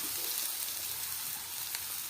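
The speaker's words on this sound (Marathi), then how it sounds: "सो आता मी त्याच्यात टाकते अद्रक लसूणची पेस्ट।" Ginger-garlic paste sizzles steadily as it fries in a pan for ghevda bean bhaji, a faint, even hiss with light crackle and no voices.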